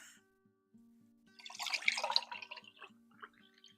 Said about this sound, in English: The coffee pouring into the cup.